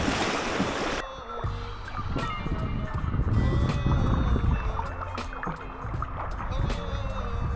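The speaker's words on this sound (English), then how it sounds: "Go paddle, Carlos, paddle, paddle, Carlos, paddle." A canoe is paddled on the Whanganui River in New Zealand, with repeated splashes and water swishes against a steady background of moving water and wind, and voices calling out now and then.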